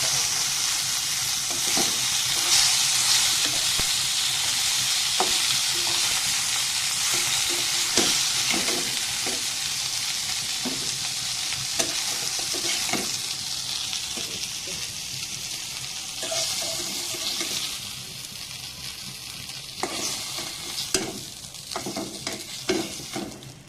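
Small puti fish frying in oil in a pan in a village kitchen, a long steady sizzle with repeated scraping clinks of a spatula that grow busier toward the end, heard close without talk.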